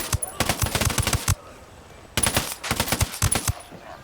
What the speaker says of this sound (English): Cool, I'm opening fire now.